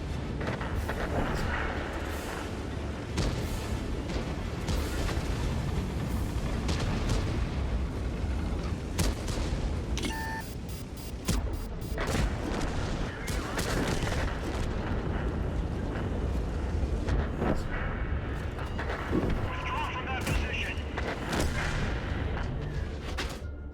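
Tank cannons boom in World of Tanks gameplay, heavy repeated blasts and rumbling explosions over a constant dense battle din, loud and continuous with no talking.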